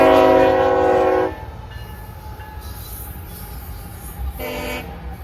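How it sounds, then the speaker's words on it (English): A freight grain train passes at Folkston, Georgia, its horn blaring in two loud blasts, with a low rolling rumble and rail noise continuing between them. "The next train on our list would be a grain train, I do believe, with hopefully some good power,"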